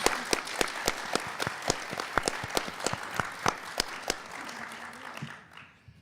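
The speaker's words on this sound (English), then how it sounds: "Round of applause for our contestants." A quiz show audience claps steadily for middle school contestants, a dense wash of applause with sharp individual claps standing out, fading away toward the end.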